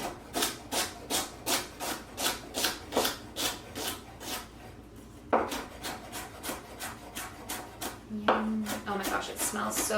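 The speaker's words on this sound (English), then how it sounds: "we're just doing very thin slices" A knife cuts very thin slices of a fresh vegetable with a licorice scent, probably fennel, on a wooden board, giving a steady run of quick, close, crisp cuts with a brief pause midway and a little background noise.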